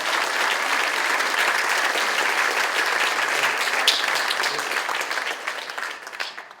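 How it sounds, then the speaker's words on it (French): Dense, loud audience applause fills the room at the closing ceremony of a film festival, holding steady before tapering off toward the end. "D'ailleurs, ça peut s'applaudir."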